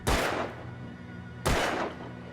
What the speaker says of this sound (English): Am I supposed to shoot those cans? Let's shoot the cans.